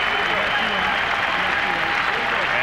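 A crowd of 21,000 at the Palace of Auburn Hills basketball arena gives a standing ovation during a Bulls–Pistons playoff game, steady loud applause and cheering filling the arena, with a commentator talking over it.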